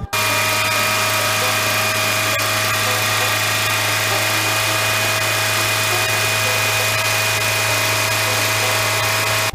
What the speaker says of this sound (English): we kind of revved the motor and let it idle, sitting still